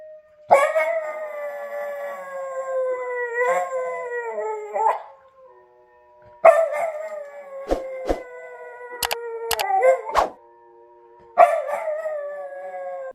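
A corgi howls close by in three long, wavering bursts separated by quiet gaps, with a few short sharp clicks and noises between the howls.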